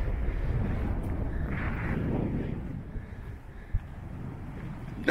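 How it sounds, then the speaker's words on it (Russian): Gusty wind rumbles against the microphone in low, uneven buffets, with a brief thump near the end, on a path near the Rzhev memorial. "Ветер сильный."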